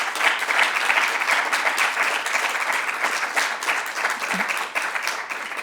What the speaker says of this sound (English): So I'd like a round of applause for John.